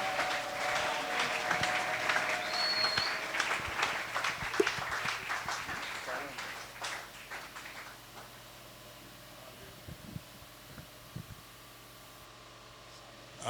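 A church congregation applauding during a sermon, dense clapping that starts loud and fades to scattered claps over several seconds.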